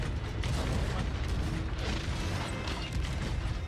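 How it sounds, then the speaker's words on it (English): Cannon fire between ships in the Sea of Thieves video game, dull booms and bursts mixed with creaking ship sounds, continuous and moderately loud. "I began to hear cannon fire"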